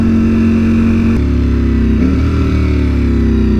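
A Ducati StreetFighter V4S motorcycle engine drones loudly and steadily up close, with a couple of slight shifts in pitch partway through rather than sharp revs.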